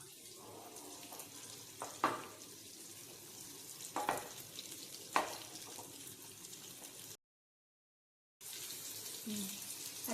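Tilapia fish fries in oil in a pan with a soft, steady sizzle and occasional pops and utensil clicks, cut by a short stretch of silence near the end.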